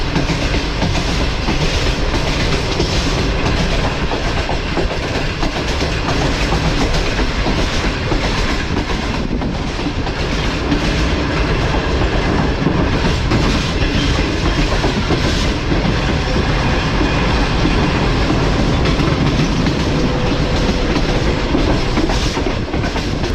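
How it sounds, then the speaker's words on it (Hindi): Train wheels clatter steadily and loudly on the rails as the Tezgam express passes through a station in business class, a dense continuous rumble with rhythmic clickety-clack running throughout, no voices. "काफ़ी मज़ेदार ट्रैक साउंड के साथ।"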